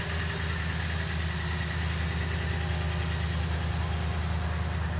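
A 2014 Toyota Tundra Limited four-wheel drive with a 5.7-liter V8 idles steadily, a constant low rumble with a faint hum, close and unchanging throughout.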